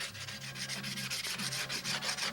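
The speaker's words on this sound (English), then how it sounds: "That's why we made these nice new sanding blocks up" Rhythmic back-and-forth scraping of sandpaper on a surface, quick repeated strokes at close range, fairly soft and without speech.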